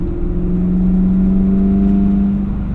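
A Chevrolet C4 Corvette with a manual gearbox revs hard on a kickdown, a steady loud engine drone with a rising tone heard from inside the car, no talking.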